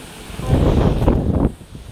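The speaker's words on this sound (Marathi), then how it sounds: "वारा पाऊस चालू झालाय" A nighttime wind and rain storm rumbles and gusts against the microphone, swelling into a loud roaring burst for about a second before easing back to a lower whoosh.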